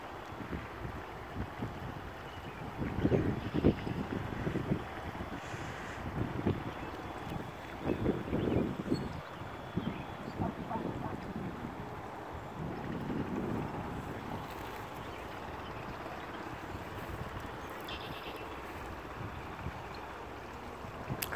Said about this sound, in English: Just hear the water rushing,